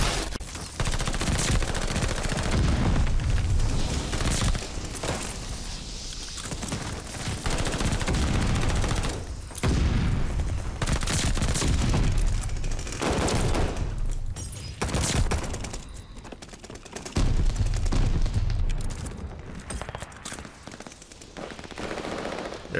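PPSH-41 submachine gun in Call of Duty Vanguard, fired in long rapid bursts with brief pauses between them, loud and close, mixed with other game sounds.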